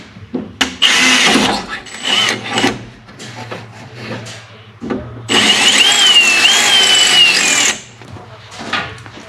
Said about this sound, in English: First start with a good drill bit.